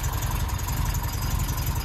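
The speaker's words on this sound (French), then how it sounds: "c'est un moteur qui affiche 94 chevaux. On a 2 carburateurs SU. Et elle tourne super bien." Freshly rebuilt 94-horsepower engine of a 1970 MGB roadster with twin SU carburettors runs smoothly at idle, a steady low rumble with an even pulsing beat, close and alone.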